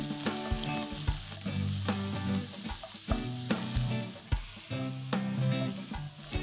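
Three finely chopped onions sizzle and fry in hot oil, a steady dense crackle with repeated stirring scrapes of a spoon against the pan, close and continuous with no talking.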